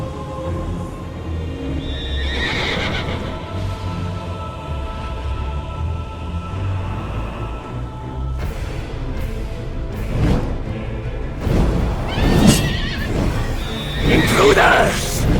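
A horse whinnies several times in Black Ops 6 Zombies, with hoof clatter and galloping under loud game music and effects, and voices speak over parts of it.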